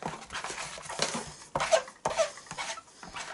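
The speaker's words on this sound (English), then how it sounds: "Sorry for the squeaks, but it means it's nice and squeaky clean" A Stampin' Up chamois squeaking as it rubs ink off rubber stamps, giving repeated short close squeaks and rubbing strokes in an uneven rhythm.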